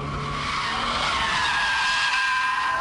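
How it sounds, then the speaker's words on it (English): A rear-wheel-drive BMW Z3 power slides, its tires skidding in a continuous loud high squeal over the engine's steady roar, close and without pause. "We're happily power sliding, but too little power, and it straightens up and goes the other way."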